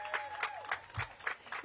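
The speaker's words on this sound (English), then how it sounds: "Give Thinny a big round of applause." Audience clapping for an interim parks department director at a Washington, DC mayoral press conference: a small group's sparse, steady claps at a quick even rhythm, fairly quiet and slightly distant, with faint murmuring voices underneath.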